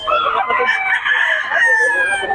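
Young rooster (stag) crowing close and loud, one long drawn-out crow with a strained, wavering tone.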